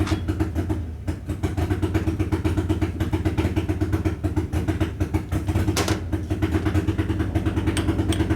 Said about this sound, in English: That's a one-cylinder Harley.